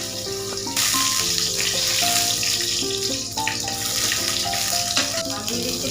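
Whole cumin, dry chilies, bay leaf and whole garam masala crackle and sizzle in hot oil for chana dal tempering, a steady close hiss with scattered pops and faint background music.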